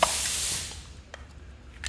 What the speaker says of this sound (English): Grab your metal marking spray and shake it up really well.